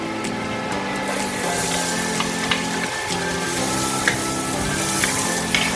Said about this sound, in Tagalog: pag mainit na ating butter, lalagay naman natin ang ating garlic